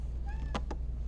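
A pet cat gives a short, clear meow over a steady low hum, two brief rising tones followed by two quick bursts, close to the microphone.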